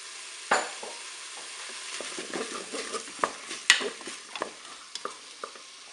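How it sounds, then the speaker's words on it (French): Shrimp spaghetti ingredients with garlic are stirred in a Cookeo, a soft, quiet sizzle under scattered scraping and clinking of a utensil against the pot, with a few sharper taps. "Je mélange."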